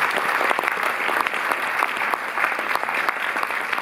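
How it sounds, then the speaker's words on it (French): Audience applause fills a cinema at a Paris film premiere, a dense, steady clapping from a full crowd that stays loud and even throughout, with no talk over it. "Sous vos applaudissements, je vous remercie d'accueillir Xavier Ganoli."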